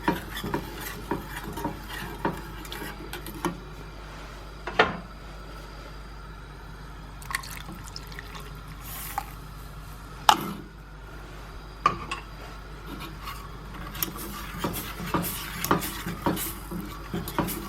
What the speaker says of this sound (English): And just start stirring that in. And the cocoa powder is going to try to separate.